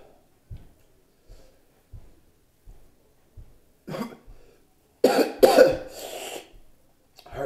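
A man coughs after eating a very hot pepper nut. Soft, evenly spaced thumps and breaths lead into a harsh burst of close, throaty coughs, then a brief pause and one more cough.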